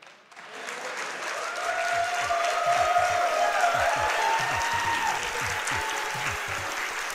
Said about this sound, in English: Oh yeah, you can hear that crowd.